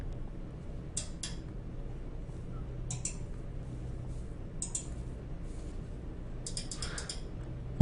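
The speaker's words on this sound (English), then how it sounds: "Well, these are a lot of mouse clicks." Several sharp, crisp computer mouse click sound effects come in small scattered groups with pauses between them, close and distinct over a quiet background hiss.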